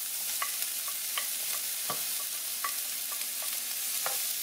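Chopped serrano chile and onion sauté in a pan beside potatoes, giving a soft, steady sizzle with occasional light scrapes and taps of a utensil stirring, heard up close with no talking.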